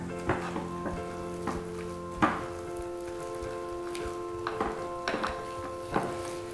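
A spatula folding cornbread batter thick with peppers, bacon and corn in a bowl, giving repeated soft wet scrapes and thuds over a faint steady hum.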